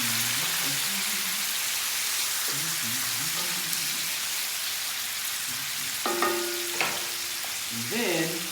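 Bacon frying in a pan after a ginger, honey and lemon infused sugar syrup is poured in, a steady close sizzle running throughout with a few louder crackles and bursts near the end.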